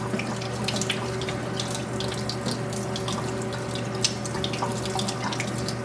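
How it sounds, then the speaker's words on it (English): Cold tap water runs steadily over tomato seeds in a mesh strainer, a continuous close splashing flow with faint droplet patter and a low steady hum beneath, no talking. "Run some cold water over them to release the seeds from that jelly coating even more so."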